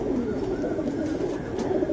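A pigeon coos steadily in a low, continuous murmur close by, with a faint higher chirp partway through; no voices are heard.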